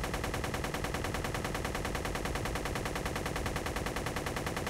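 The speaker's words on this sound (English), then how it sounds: "So I've loaded my GAT gun, which has a range of about 600 meters" A GAT gun in a space flight combat game fires a dense, unbroken rapid stream of shots, steady and loud throughout with no voice over it.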